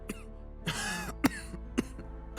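Sam coughs several times in short, sharp bursts, close and fairly loud against a quiet room, with a rough throaty stretch between the first coughs.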